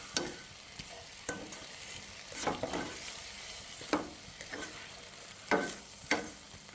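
Pork neck being stir-fried with sugar and seasoning powder in a hot pan, with a steady sizzle under repeated scraping strokes of a spatula at an irregular rhythm, close and clear with no talking.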